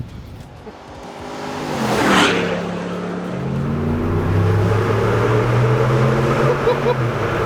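A truck fitted with a loud Gibson split exhaust revs up, its deep engine roar swelling and holding close and loud, with people talking over it.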